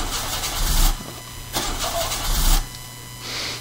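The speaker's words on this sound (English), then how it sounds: "Hold on, I'll try the engine." A car engine cranking and failing to catch in the video game Mermaid Swamp: three separate whirring start attempts, each sputtering out, with a faint hum between them and no talking.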